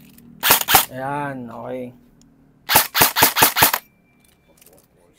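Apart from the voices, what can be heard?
airsoft gun firing through a chronograph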